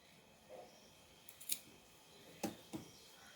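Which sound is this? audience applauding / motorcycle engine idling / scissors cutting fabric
scissors cutting fabric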